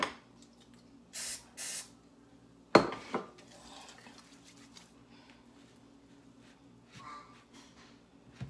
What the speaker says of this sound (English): spray my hands again